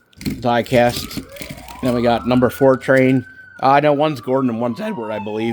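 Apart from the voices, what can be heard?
sirens outside the window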